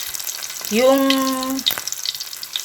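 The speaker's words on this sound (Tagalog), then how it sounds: "dyan na rin ako magigisa sa pinagprituhan ng pampano" A pan sizzles as ingredients are sautéed in the oil left over from frying pompano fish. A brief voice-like tone rises over the frying near the start, followed by a few light clatters.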